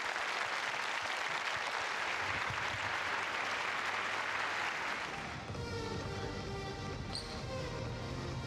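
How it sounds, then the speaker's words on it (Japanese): A crowd of Chiba Jets basketball fans at an end-of-season booster appreciation event applauds the head coach, loud dense clapping that carries on and then thins into scattered claps and murmurs. "今一度のヘッドコーチ、そして 2021-22 シーズン千葉ジェッツの大きな拍手をお送りください。"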